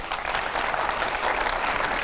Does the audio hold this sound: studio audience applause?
yes